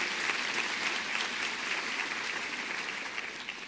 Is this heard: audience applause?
yes